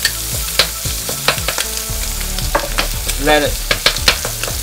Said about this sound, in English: fry for a little bit till about golden brown